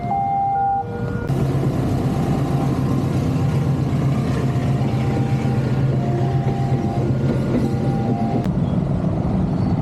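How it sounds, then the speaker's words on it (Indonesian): A train rumbles past nearby, a continuous loud roar of wheels and carriages with steady clattering lasting throughout. "Yuk kita lihat kereta api nih"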